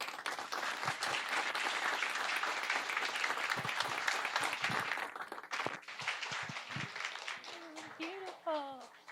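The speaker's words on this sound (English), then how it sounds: "Big round of applause, Lisane Basquiat, everybody." Applause from an audience after a keynote at a welcome event, a broad steady round of clapping that fades after a few seconds as a person begins talking over the tail.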